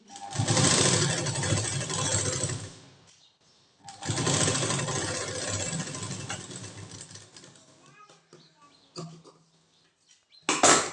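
Sewing machine topstitching the button strip of a katori blouse, two close bursts of rapid motor stitching separated by a short pause, then quieter handling noises and a brief final burst.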